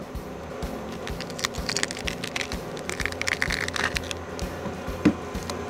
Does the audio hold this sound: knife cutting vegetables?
yes